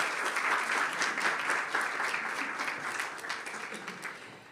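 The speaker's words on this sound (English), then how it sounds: "so please a great applause for him" Audience applause for the ex-president of the World Jurist Association at a sustainability conference panel: dense, steady clapping from a large room that holds evenly throughout, then eases slightly toward the end.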